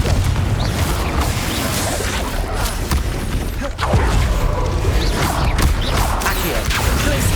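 A Confringo blasting spell bursts in Hogwarts Legacy amid a loud, dense clash of booming impacts and crashing debris, continuous and close, with a brief lull before the noise surges again.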